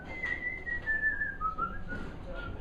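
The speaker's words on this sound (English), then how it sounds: "began to whistle a lilting tune." A person whistles a lilting melody alone, a thin clear tone gliding smoothly between notes over a faint background hum.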